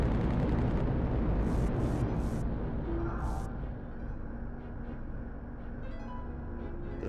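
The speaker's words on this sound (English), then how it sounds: "The frag cannon has some excellent range on it." Frag cannon fire in a video game, played on real CRT hardware, booms as a dense, loud, continuous rumbling barrage of explosions that eases a little after a few seconds but keeps rolling to the end, with no voices.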